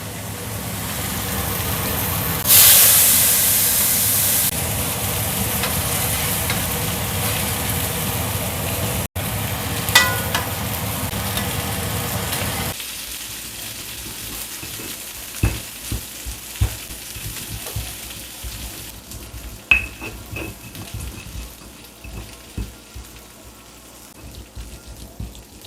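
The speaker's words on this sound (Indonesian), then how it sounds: "aku mau goreng cabai sama bawang putih" Chili and garlic frying in a pan for sambal, with a loud burst of sizzling as they hit the hot oil, then steady crackling and sputtering with occasional stirring clinks as the hiss gradually quiets.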